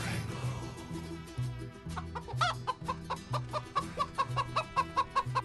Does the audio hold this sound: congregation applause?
no